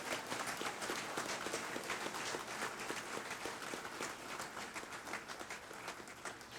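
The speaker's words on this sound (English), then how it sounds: "Please give a round of applause to those great organizations" An audience at an awards ceremony claps continuously in a dense, even wash of applause that holds steady for several seconds before easing slightly.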